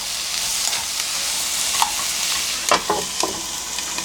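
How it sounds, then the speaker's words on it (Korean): Chopped onions sizzle steadily in a hot pan over high heat, with a few sharp scraping clicks of a utensil stirring them near the end, close and alone with no voices. "익으면은 뚜껑을 열고 섞어주고 또 덮었다 열었다가 반복하면서 양파를 완전히 익혀주겠습니다"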